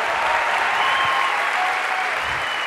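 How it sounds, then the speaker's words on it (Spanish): Loud, dense applause from a crowd at a live event in Colombia, a sustained roar of clapping hands heard at full strength for the whole stretch with no pauses. "¡Fuerte el aplauso!"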